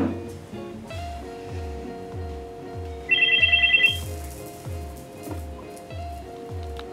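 A phone ringtone plays as a repeating electronic melody with a steady pulsing bass pattern, loud and close, with a brief bright trill partway through and no talk.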